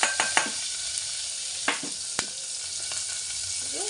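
Chopped onion drops into hot oil with browned garlic and a pinch of asafoetida, setting off a steady close sizzling hiss broken by a few light clinks and stirring scrapes.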